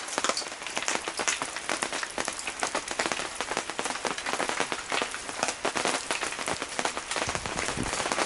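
Steady rain patters densely on surfaces around a campsite, a continuous loud hiss of countless close drops with no pauses, heard on its own without talking.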